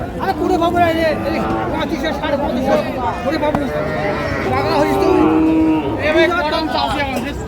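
Cows low with deep, drawn-out moos at a busy cattle market in Rangpur where cows are being bought, set against steady crowd chatter and people talking nearby.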